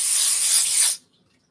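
A single steady hiss from an aerosol spray can lasts about a second, close and fairly loud, then cuts off abruptly into near silence.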